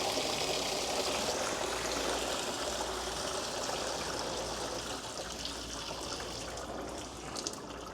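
Coolant from a Porsche engine, the wrong color, pours and splashes steadily in a close, continuous liquid stream that runs unbroken for the whole stretch.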